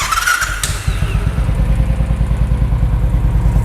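Moge 500cc motorcycle engine idling steadily after a full service, a close, even low throb with a regular pulsing beat and no talk.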